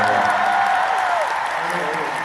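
Concert audience applauding for a guest singer at a live show: dense, steady clapping from a large crowd filling the whole stretch, with a faint sustained tone fading beneath it.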